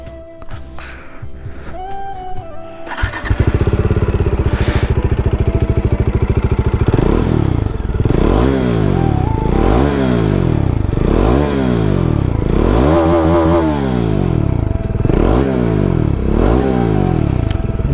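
A Bajaj Dominar 400 BS6 motorcycle starts with a short crank, settles into a loud, close idle, and is then revved repeatedly, each rev climbing and falling back in a steady rhythm, with no talking.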